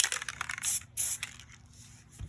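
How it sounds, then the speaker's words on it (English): A can of white spray paint hisses in two short bursts onto a finger during spray paint art, close and fairly quiet, with small rattles and scrapes around it. "So we're just gonna spray some on our finger."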